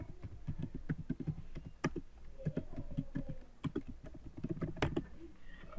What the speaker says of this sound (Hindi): मैं अपना एड्रेस टाइप करता हूँ